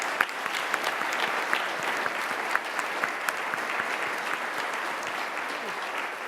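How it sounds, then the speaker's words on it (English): Sustained applause from an audience for the panelists at a veteran hiring summit, dense steady clapping from many hands with a few sharper nearby claps standing out, continuing without pause. "I would really like to give the panelists a round of applause for their great"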